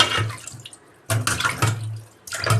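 Tap water runs into a sink in three loud bursts, splashing while fish is washed clean after gutting.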